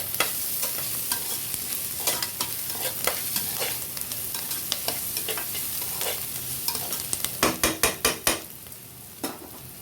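Garlic sizzles in a hot pan with repeated stirring and scraping, ending in a quick series of sharp utensil taps against the pan.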